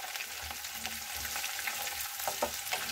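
Whole coriander seeds frying in oil in a pan, a steady close sizzle with a few brief stirring scrapes and crackles, no voices.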